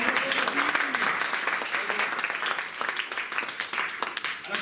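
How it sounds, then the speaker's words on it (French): A concert audience claps in a lively, fluctuating round of applause that runs the full length, with some voices and murmurs mixed in beneath the clapping. "On va l'applaudir."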